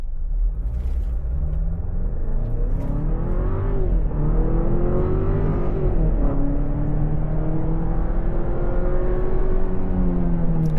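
A 2026 Jeep Grand Cherokee L Summit accelerates from a stop, its engine rumbling loudly from inside the cabin as the pitch climbs through several gear changes, with no talking.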